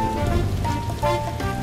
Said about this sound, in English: Today is rainy, rainy.